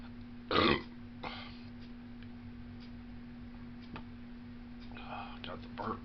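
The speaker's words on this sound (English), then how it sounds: "Got the burps." A man burps a few times on his own, a loud close belch followed by softer, shorter ones spread over several seconds, with a steady low hum underneath.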